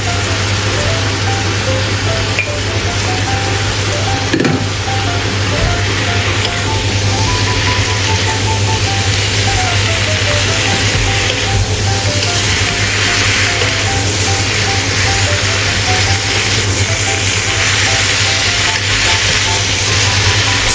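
Potato slices frying in a pan make a loud, steady, dense sizzle throughout with a faint clink near the middle and no talking.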